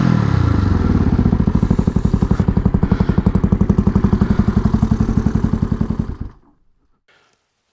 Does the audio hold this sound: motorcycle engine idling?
yes